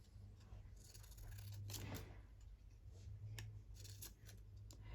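Scissors trim a strip of paper in a crafting session with envelopes, giving several quiet snips close by over a low background hum.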